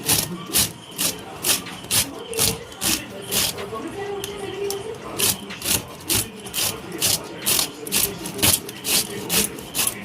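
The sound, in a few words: grating peeled papaya on a grater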